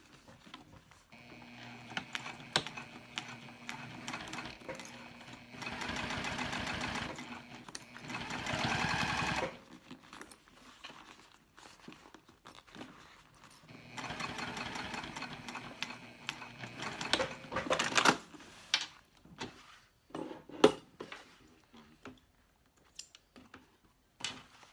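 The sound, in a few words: sewing machine stitching a cork bag seam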